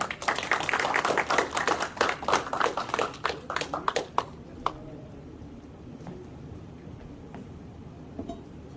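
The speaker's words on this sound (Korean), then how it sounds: "큰 박수 부탁드리겠습니다" Audience applause at a book concert in Korea as an alumni association president walks onstage: dense clapping for about four seconds that thins into scattered claps and then near-silence.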